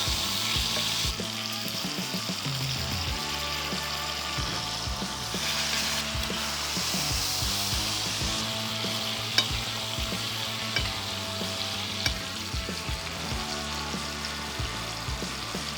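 Steady, dense sizzling of meat frying on a hot surface, with a constant crackle and a few sharp pops, close and continuous throughout.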